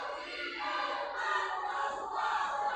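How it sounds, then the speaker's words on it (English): A wrestling crowd at a PPW Heavyweight Championship match between Dio Bando and Dan Stofko cheers and chants, a roaring mass of voices split between the two wrestlers, swelling steadily with distant shouts. "A divided crowd"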